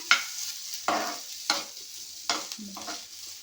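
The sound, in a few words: ginger garlic paste frying and sizzling in a pan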